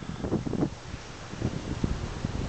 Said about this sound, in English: the wind just picked up like crazy